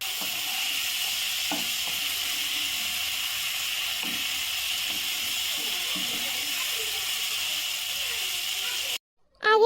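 Green chilies and chopped tomato stirred in a hot frying pan, giving a steady close sizzle and hiss with a few faint scrapes of the utensil, ending abruptly.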